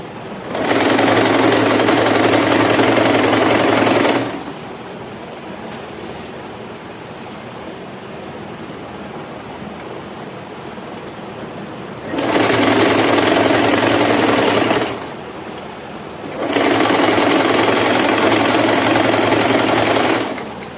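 A sewing machine stitches along the reverse side of a saree in three loud, steady motor runs of a few seconds each, separated by quieter pauses with only a low hum between them, close by with no talk.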